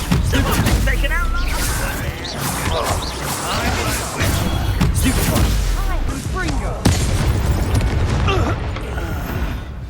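The Confringo fire spell explodes in the Hogwarts Legacy video game, one loud blast among several booming, crackling magical impacts in a dense battle mix, with spoken dialogue over it.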